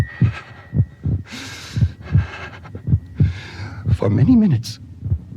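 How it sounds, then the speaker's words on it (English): A heartbeat sound effect in a ghost story audio drama, a steady run of low, thudding beats about every half second, continuing under a narrator's voice until his words take over near the end. "the heart beat on, but at length it ceased"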